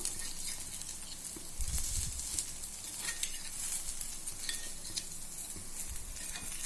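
Kuzhi paniyaram fry in a pan with a soft continuous sizzle, broken by scraping clicks and light taps as the dumplings are turned one by one at close range.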